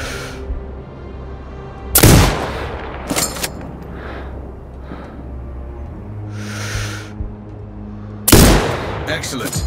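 Two loud, sharp sniper rifle shots ring out in Sniper Ghost Warrior Contracts 2, roughly six seconds apart, each with a booming echo over a low ambient game background with faint scattered sounds between.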